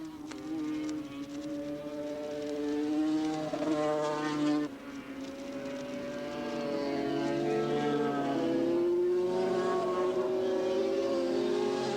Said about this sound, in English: It looks like that's bike number 45, Robert DeWitt, running out in front.